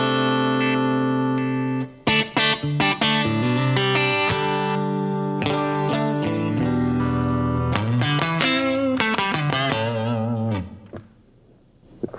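Electric guitar with a crunchy, mildly distorted tone playing sustained chords and bends, ringing out then fading at the end.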